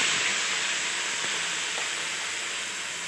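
Garlic and red chili chutney paste hitting hot oil in a Marwari kitchen gives a loud, steady hiss with a sizzling crackle that holds throughout with no talking.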